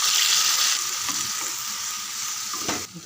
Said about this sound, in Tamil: நல்லா ஒரு 5 நிமிஷம் நல்லா வதங்கட்டும் உருளைக்கிழங்கு.